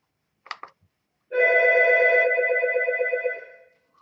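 An Algo 8180 alerter sounds a single warbling electronic ring of about two seconds that fades out, preceded by a couple of brief clicks.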